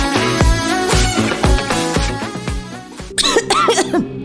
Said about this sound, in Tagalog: Ubo, plemang nakabara,